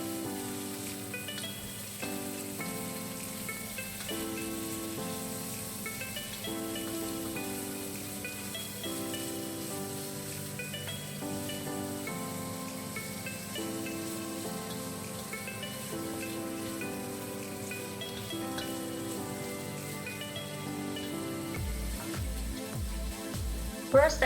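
Shrimps and salt in a hot frying pan give a steady, even sizzle, like light rain, running under soft background music, with a few clattering knocks near the end.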